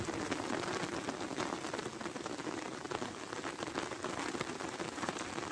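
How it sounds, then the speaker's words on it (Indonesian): Steady rain patters densely on surfaces along the coast at Sagara Muncul beach in early October, a continuous soft hiss of drops with no voices. "Alhamdulillah hujan di awal bulan Oktober."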